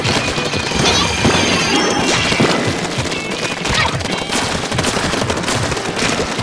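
Rapid bursts of explosions and gunfire-like blasts from bombs in a Splatoon ranked battle, dense and loud throughout with overlapping pops and crashes.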